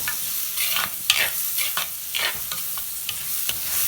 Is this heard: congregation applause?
no